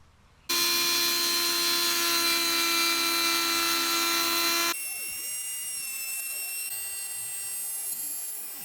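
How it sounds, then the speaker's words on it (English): A router table cutting a groove in wood makes a loud, high, steady motor whine with a grinding edge for about four seconds. It then drops suddenly to a quieter whirring spin-down that carries a thin whistling tone. "I can easily do that on the router table"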